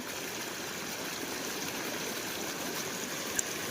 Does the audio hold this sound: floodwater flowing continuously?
yes